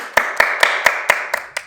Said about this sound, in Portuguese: palmas para o nosso amigo.